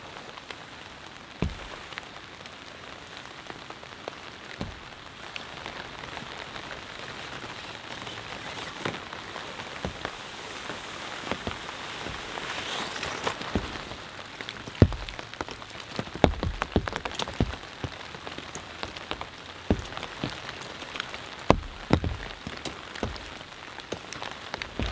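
Heavy rain pours steadily on the ground at a mountain campsite, a dense, continuous hiss broken by sharper scattered drop impacts and splashes that grow busier toward the end, with no voices.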